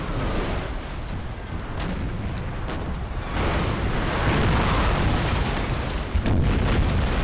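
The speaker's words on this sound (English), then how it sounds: "The broadsides are returning." Ship broadside cannon fire in the video game Napoleon Total War, a large Mediterranean naval battle: a dense, continuous rumble of distant booms with scattered sharper cracks and no speech.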